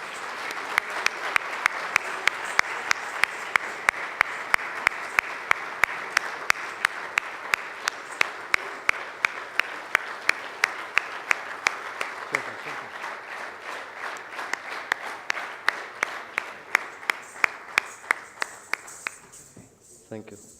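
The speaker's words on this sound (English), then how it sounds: "An artist needs applause." Prolonged audience applause for an artist's performance at an international conference, a steady wash of clapping from the hall punctuated by sharp, regularly spaced loud claps close by, gradually thinning toward the end, with some voices underneath.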